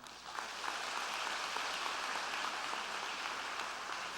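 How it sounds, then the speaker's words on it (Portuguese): A church congregation applauds together during a priest's sermon, a dense steady patter of clapping that fills the room for several seconds without a break. "Aplauda isso."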